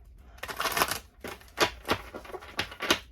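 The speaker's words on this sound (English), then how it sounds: "So one more shuffle." Tarot cards being shuffled by hand, a run of crisp riffling bursts and soft slaps coming in uneven clusters, close and fairly quiet, with no talk.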